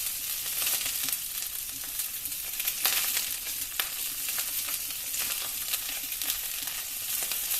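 Red sausage sauce bubbling and frying in a pan while being stirred up from the bottom, giving a dense, continuous sizzle with faint scraping throughout. No one speaks.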